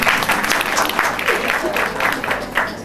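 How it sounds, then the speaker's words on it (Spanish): Audience in a conference hall at an education talk in Corrientes breaking into steady, dense applause, a sustained wash of clapping lasting a few seconds. "otro aplauso."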